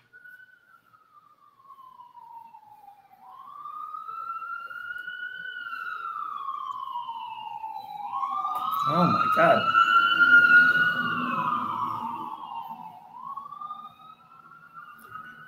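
Ambulance sirens pass outside in Tampa, Florida, with long wailing tones that swell louder as they approach and fade away, alongside a brief exclamation from a person.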